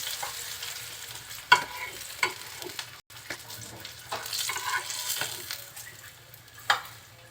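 Rohu fish pieces being fried in oil, a low steady sizzle with scattered sharp clicks and utensil taps and brief bursts of spatter, close and fairly quiet with no talk.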